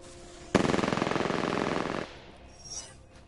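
A loud, close burst of rapid automatic gunfire in a sci-fi shooter game, opening with a sharp crack and rattling steadily for about a second and a half before cutting off, followed by faint ambient game noise.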